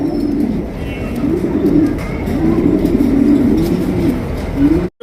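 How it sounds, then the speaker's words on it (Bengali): Large Lahori pigeons coo close by in a steady, rolling series of low, throaty calls that carry on almost without a break for several seconds. "দেখেন একদম বিগ সাইজের কোয়ালিটি ফুল কবুতর"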